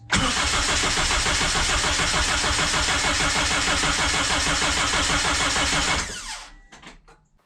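A K24 engine swapped into a Scion FR-S fires up on its first start and runs loudly and evenly at close range for about six seconds before shutting off and fading to silence.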